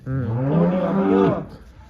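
At a cattle market, a buffalo lets out a single loud, drawn-out moo of just over a second that rises and then falls. It is close by and stands alone over faint background noise.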